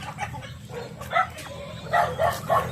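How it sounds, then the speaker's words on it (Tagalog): Several dogs bark in the distance on a rural farm, scattered yaps and woofs overlapping at irregular intervals over a low background hum. "Maingay yung aso."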